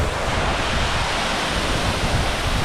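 Can-umantad Falls, a tall waterfall in Bohol, Philippines, pours in a steady, loud, broadband roar of crashing water with no breaks and no voices.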